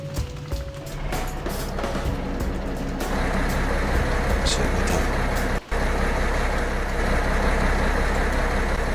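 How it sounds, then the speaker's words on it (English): A tractor engine idles and rumbles steadily in Farming Simulator 2017, a continuous mid-level drone with a brief dropout partway through, and a voice talking over it at moments. "Let's go back in that tractor"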